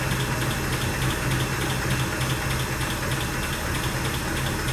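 The engine of a 1948 Pontiac Torpedo sedan, pulled from a barn after 20 years, idles at a slow 430 RPM with a steady low, rhythmic chug and heavy constant noise.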